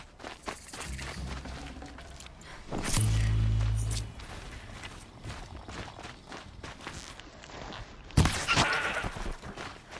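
A goat in Horizon Zero Dawn lets out one loud, wavering bleat partway through, among game ambience and footstep-like rustling, with a sharp noisy burst near the end.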